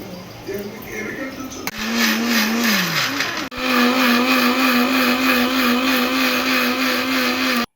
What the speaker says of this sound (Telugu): మిక్సీ పడుతుంది.